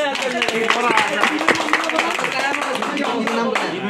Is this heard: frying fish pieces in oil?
no